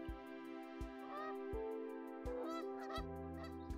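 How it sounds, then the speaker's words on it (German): Goose honks in the zoo-building game Let's Build a Zoo, a few short nasal calls over a steady game music bed with sharp rhythmic ticks. "Eine neue Gans."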